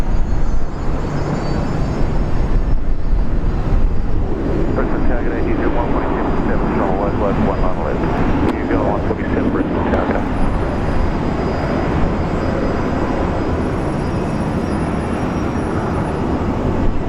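A Jetstar airliner at Brisbane International Airport produces a loud, continuous jet engine roar with a broad rumbling wash that swells and slowly fades. Someone talks over it.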